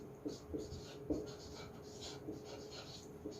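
Chalk or marker writing on a classroom board during an English language lesson, with faint intermittent scratchy strokes over a quiet room hum.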